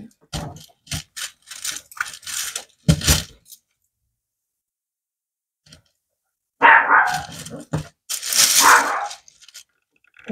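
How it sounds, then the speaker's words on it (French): A dog barks in sharp bursts, several quick barks, a pause, then more loud barking close by. "peut-être vous avez un chien qui aboie aussi."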